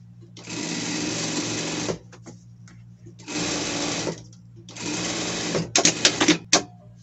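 A sewing machine stitching a children's costume garment, three bursts of fast whirring stitching separated by short pauses, close and loud, followed by a few clicks and clunks.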